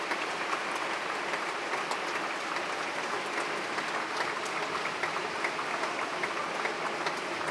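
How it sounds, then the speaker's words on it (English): Sustained applause from a large crowd at the re:publica 2024 conference, steady dense clapping throughout with no pauses. "Jean Peters, a huge round of applause"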